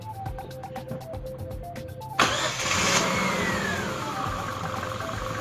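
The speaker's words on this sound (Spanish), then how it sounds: "Pon en marcha por favor el motor." A Chevrolet Aveo with an engine computer fault cranks and starts after a run of quiet rhythmic ticking, then settles into a loud, steady idle close by.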